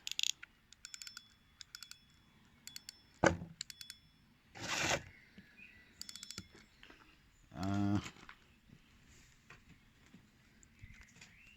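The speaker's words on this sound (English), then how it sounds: "Tighten the drag a bit, and the drag feels smooth." The drag of a Crivit 5000-S baitrunner fishing reel is adjusted up close, giving bursts of rapid mechanical ratcheting clicks between quieter single clicks and handling noises.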